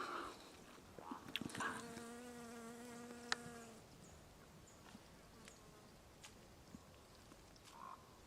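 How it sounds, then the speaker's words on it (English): Bees buzzing around tobacco plants in a village garden, soft close buzzing passes rising and fading against quiet outdoor background, with faint scattered sounds. "So apparently the bees like these as well."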